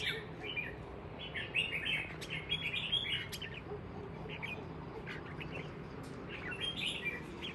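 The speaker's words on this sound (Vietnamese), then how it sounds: "Xem cái thái độ con chim như thế nào thì test cho anh em xem nhé" A caged red-whiskered bulbul sings in bursts of bright, chirpy phrases over a noisy outdoor background, fairly faint and intermittent.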